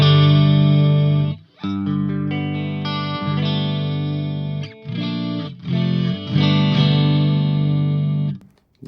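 Distorted electric guitar played through the chorus effect of a Line 6 HX Effects pedal, sustained chords with a shimmering warble, struck in several bursts with short gaps, loud and alone.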